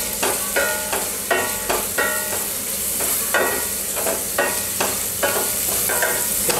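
Garlic, cumin and asafoetida sizzle steadily in hot oil while a spoon stirs them in regular scraping strokes, loud and close with no talk.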